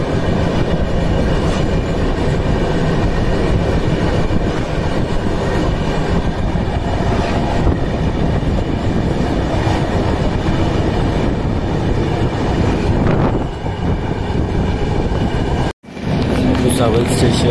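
A passenger train running on rails between Malkapur and Bhusawal on the Rourkela, Odisha to Mumbai route in 2024 gives a loud, steady rumble and rattle throughout, with a brief dip near the end.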